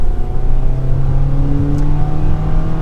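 A 2022 Jeep Compass Trailhawk 4x4 with a small engine and nine-speed transmission accelerates under light throttle, a steady, moderately loud engine drone with rising tones and no speech.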